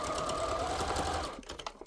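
A sewing machine stitches down an advent calendar panel with a rapid, steady whirring run up close, then slows into a few separate clicks as it stops.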